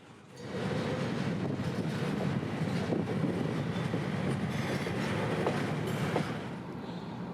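Freight train passing on the S-line in Central Florida, a long steady rumble of rolling railcars with faint clicking wheels and wind noise, close and continuous throughout.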